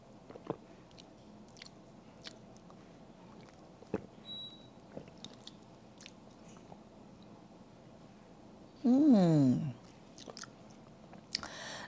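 Ceviche being chewed in close-up, with scattered soft crunchy bites and mouth sounds over a quiet room, interrupted near the end by a brief loud rising sweep.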